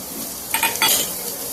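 Spices being stirred and fried in a pan for a one-year-old's meal, with turmeric, ginger paste and cumin powder: steady background sizzle with two brief scraping bursts of stirring near the middle, no talk.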